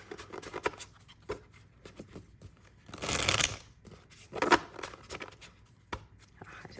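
Cards are riffled and shuffled in a few short bursts, with one longer, louder riffle in the middle, close up and without talk.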